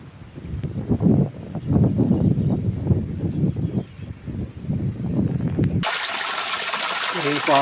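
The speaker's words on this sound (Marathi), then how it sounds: "पाणी" Water pours into a small village pond on an overcast pre-rain evening, a steady rushing hiss that comes through clearly after a stretch of talking.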